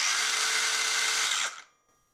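A Hercules 4.5-inch brushless saw runs at a high whine, then winds down quickly and falls quiet after the trigger is released.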